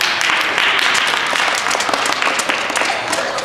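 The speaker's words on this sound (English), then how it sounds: "Clap for them." A crowd claps and applauds loudly and continuously, a dense wash of hand claps without pause.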